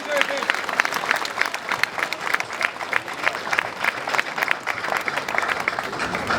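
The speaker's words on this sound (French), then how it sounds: "Vous pouvez l'applaudir." An audience at a Trait du Nord draft horse show in Cambrai breaks into sustained applause, dense crowd clapping that continues steadily throughout at moderate loudness.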